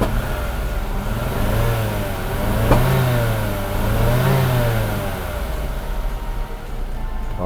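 Mercedes W123 280CE engine, its fuel distributor clogged, running unevenly: a loud, close drone with wavering pitch and surging revs, plus a brief sharp click partway through.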